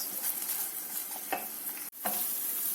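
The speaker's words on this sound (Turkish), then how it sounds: "Şimdi soğanımızı ekliyoruz." Meat sizzling in a pan for sultan kebab as onions go in: a steady broadband hiss of frying with a few stirring scrapes, one brief dropout, then the sizzle resumes, close and fairly loud with no talk.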